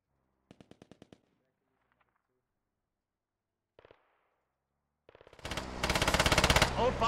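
Machine gun fire in the military shooter game Squad: a short quick burst, a brief second burst, then a long loud sustained volley, with quiet gaps between and no talk over the shots.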